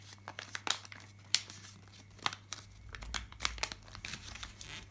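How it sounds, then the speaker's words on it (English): Paper crinkles and crumples in irregular bursts while a sheet is opened out and folded flat for a paper boat craft, the handling close and fairly loud with brief crisp tearing-like rustles. "Now you're going to open it out again like a hat and fold it flat."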